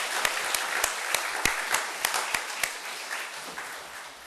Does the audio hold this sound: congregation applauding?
yes